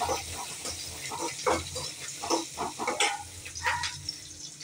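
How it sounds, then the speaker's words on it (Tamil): A large chopped onion sautéing in a pan, giving a close, continuous sizzle broken by stirring and scraping. "பெரிய வெங்காயம் பெரிய சைஸ், அதை போட்டு நல்லா வதக்கிடலாம்."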